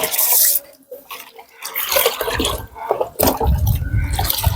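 Rice-wash water mixed with molasses and EM4 is stirred by hand, close sloshing and swirling liquid noises in uneven bursts with brief pauses between strokes.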